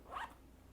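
The zipper on a small neoprene pouch makes one short, soft, close zip pull, faint against a quiet low hum.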